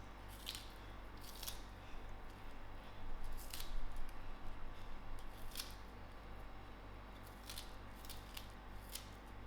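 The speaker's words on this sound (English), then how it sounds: "I'm going to just cut in some spring onions" Kitchen scissors snip spring onions into a dish, giving a series of sharp, close crisp cuts spaced a second or two apart over a quiet background hum.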